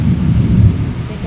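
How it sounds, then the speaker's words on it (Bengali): A loud, close, low rumble of thunder rolls through a rainstorm, deep and sustained over the hiss of rain. "দেখো মেঘ ডাকাডাকি চলছে, বিদ্যুৎ চমকাচ্ছে কিরকম"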